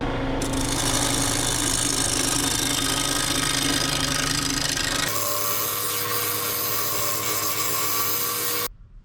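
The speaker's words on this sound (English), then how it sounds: "I'm going to achieve this by using my scraper, and the lathe will be set at 1200 RPMs." A wood lathe running at 1200 RPM as a scraper shapes a wooden bowl, giving a loud, continuous rasping hum with a steady motor tone. The pitch shifts partway through, and the sound cuts off abruptly near the end.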